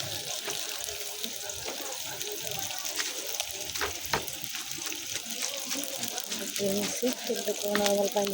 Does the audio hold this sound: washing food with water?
yes